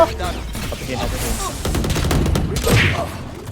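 Rapid gunfire rattles through a video game match, dense bursts of shots layered over game noise and a voice, continuous and fairly loud across the whole stretch.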